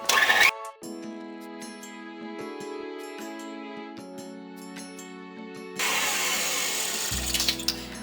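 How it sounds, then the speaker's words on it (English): An electric mixer on high beats a Duncan Hines Perfect Size cake mix batter with a little butter, giving a steady, close motor whine that roughens into a louder, gritty whir near the end, with no talking. "they said to blend it on high or mix it on high for a whole minute"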